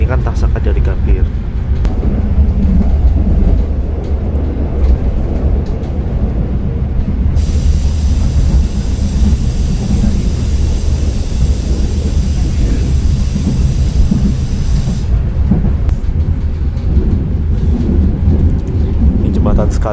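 Taksaka luxury-class passenger train running on rails in Indonesia, a loud continuous rumble and rolling noise throughout with a steady high hiss over the middle stretch, heard from inside the moving train.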